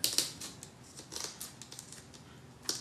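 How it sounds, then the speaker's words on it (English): A series of sharp snipping cuts from scissors trimming fiberglass cloth, irregular and close, some in quick pairs, with quiet pauses between. "I could take my scissors and then just start trimming along the feather edge"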